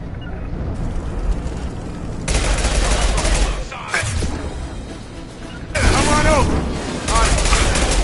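Bursts of automatic gunfire from Blue Suns mercenaries and Vorcha in the video game Mass Effect 2, loud and sustained across several volleys with brief lulls between, heavy combat clatter throughout.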